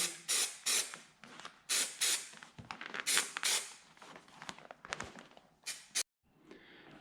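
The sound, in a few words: spraying adhesive from spray can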